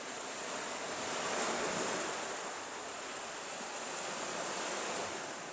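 Sea waves wash steadily onto the shore at Odessa's Bolshoy Fontan beach, a continuous surf roar with some wind noise and no voices.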